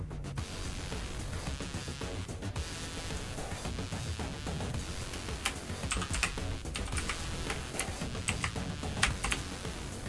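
A room code is typed on a computer keyboard, a fast, steady run of close key clicks and taps lasting about ten seconds with no voice over it.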